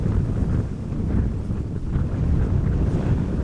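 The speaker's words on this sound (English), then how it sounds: "Now the wind does seem to be picking up a little bit" Wind blowing at Amsterdam Schiphol Airport roars steadily and loudly as low rumbling buffeting against the microphone for the whole stretch, with no voices.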